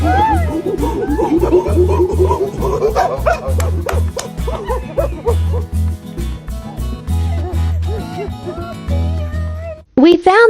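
Found in a bowl of dog food, a cat meows repeatedly, with rising and falling calls close to the microphone, while a dog barks and yips alongside it and the sound cuts off abruptly near the end.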